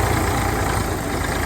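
A tractor engine runs at a steady idle in a farm field where bajra stalks are being cut, a continuous low rumble that stays close and even, with no voices.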